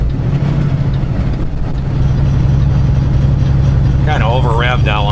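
A truck engine revs high while descending a grade on Route 55 near Moorefield, West Virginia, a loud steady drone that climbs in pitch, with a voice speaking over it near the end.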